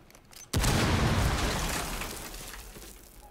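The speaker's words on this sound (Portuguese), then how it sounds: "explodiu a parede errada" A wall breach charge in Rainbow Six Siege detonates in one sudden, loud blast, followed by a long rumbling roar of debris that slowly fades over a few seconds.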